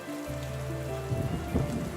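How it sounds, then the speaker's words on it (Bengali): Heavy rain comes down in a steady, full downpour, with a low sustained tone running beneath the wash of water; no one speaks. "তোমার ওখানে কি বৃষ্টি হচ্ছে? ঝুম বৃষ্টি।"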